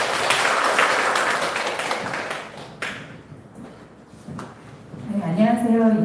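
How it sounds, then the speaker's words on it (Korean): An audience at a corporate sales seminar claps for a presenter, a thick burst of many hands that thins and fades out before a voice begins speaking near the end. "자, 큰 박수 부탁드립니다."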